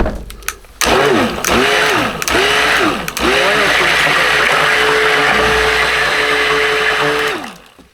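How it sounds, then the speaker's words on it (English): A stick blender mixing cold process Aleppo soap with laurel berry oil and camel milk whirs in loud bursts, revving up and down several times before settling into one long steady mechanical whine that cuts off at the end. "I'm going to use my stick blender."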